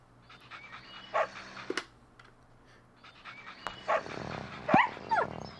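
A cartoon dog in a miniature golf video game gives short yelps and barks in scattered bursts, with small whimpers between, over a low electronic game background hum, fairly close and moderately loud.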